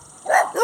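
A single dog gives a short bark-like yelp followed by a quick second yip, fairly close and brief, standing out against a quiet background.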